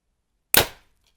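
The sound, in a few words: Hoyt Ventum 30 bow firing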